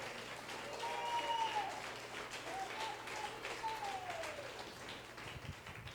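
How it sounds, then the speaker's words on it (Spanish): A church congregation applauds, a soft patter of claps heard faintly over a low hum, with a few sustained tones drifting through and the clapping thinning near the end. "Denle un aplauso al Señor."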